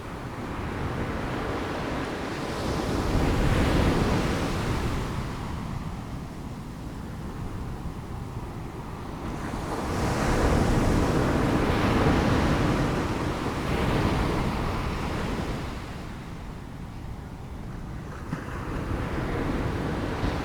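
Ocean waves surge and recede in slow, broad swells, loud rushing surf rising and falling about every seven seconds with wind noise across the microphone, no voices.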